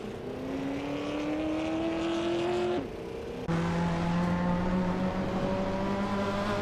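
A 1964 Aston Martin DB5 Vantage race car in a racing video game: a steady engine drone climbs through the revs, cuts off briefly at a gear change, then resumes louder at a lower pitch.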